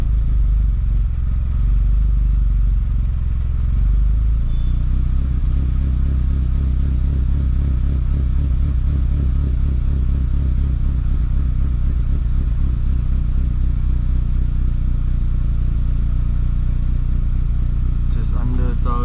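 VW Polo Classic engine with an overheating problem idling just under 1000 RPM, a loud steady low rumble that holds constant throughout, with people talking over it.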